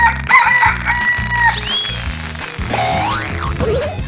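A rooster crows loudly in a 3D animal slide game, over upbeat game music with springy boing effects and a few rising whistle-like tones.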